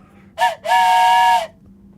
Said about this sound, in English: That's right. I'm still using the whistle.